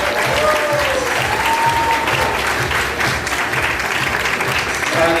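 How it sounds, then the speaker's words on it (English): A conference audience claps for two speakers called up on stage, loud sustained applause filling the room with a few whistles and cheers mixed in. "Give them a round of applause."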